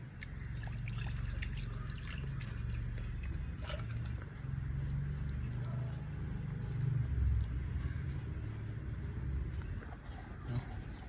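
Water poured into a measuring cup to rinse it while making rava and rice-flour dosa, a steady trickling, splashing wash running close and moderately loud for the whole stretch.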